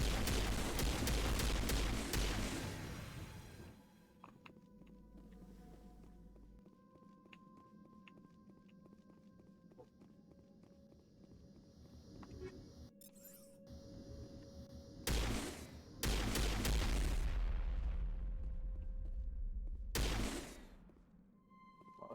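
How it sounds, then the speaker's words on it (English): Gunfire in the Mass Effect video game: loud bursts of rapid automatic shooting at the start and again near the end, separated by a quieter stretch of low ambient hum with a few isolated sharp cracks. "You're shooting at me. Stop it. Stop shooting at me."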